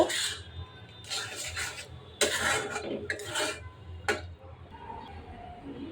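Fried spice mix being stirred into sweet gourd chutney in a pan off the heat, heard as a few uneven bursts of scraping and rubbing from a spoon against the pan, close, with quiet gaps between strokes.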